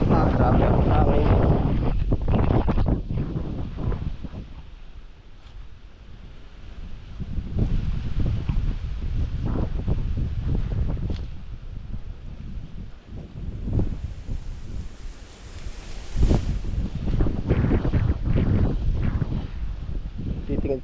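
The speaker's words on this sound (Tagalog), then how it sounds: "Grabe ang hangin." Strong gusts buffeting an outdoor microphone in a vegetable garden, a continuous loud low roar that surges and eases over about twenty seconds, with a voice speaking underneath.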